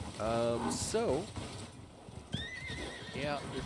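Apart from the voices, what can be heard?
horses in the video game Icarus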